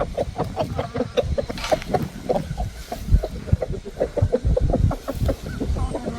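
Chickens cluck in short, busy bursts nearby, overlapping one another with a few louder calls.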